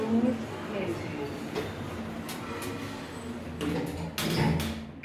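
Lift doors sliding shut at a shopping centre, a soft rumble with faint clicks and a brief thud near the end, heard close against steady indoor hum.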